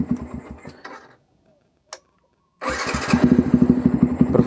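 A Yamaha Vixion supermoto motorcycle fitted with a Domino quick-action throttle revs in short pulsing bursts, falls silent with a single click, then fires up again into rapid, loud throttle blips close by.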